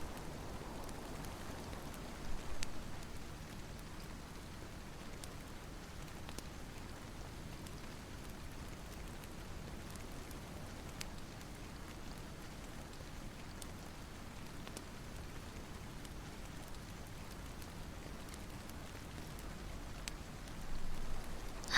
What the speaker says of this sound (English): I've always been fascinated by the rain.